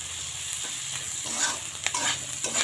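Mustard, garlic and green chilli paste fries in hot oil in a pan, giving a steady close sizzle with a few soft stirring scrapes and clicks throughout, and no voices.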